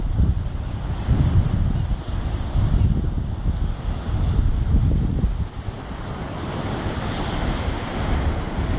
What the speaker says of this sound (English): To give you an idea of the roughness of the sea